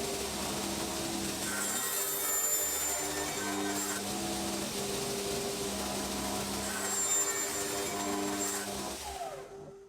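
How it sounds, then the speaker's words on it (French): A hand saw cuts through a wooden block in a workshop, giving a steady, repeated rasping stroke rhythm at close range, moderately quiet and uninterrupted by talk, fading out at the end. "je termine proprement avec une scie à main"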